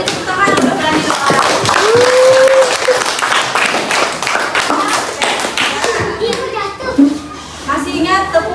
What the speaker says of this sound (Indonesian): kita beri tepuk tangan untuk berani doa